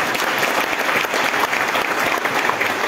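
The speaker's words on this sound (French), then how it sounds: "Let us clap our hands together." A church congregation claps hands in sustained, dense applause at a gathering, loud and continuous with no pause.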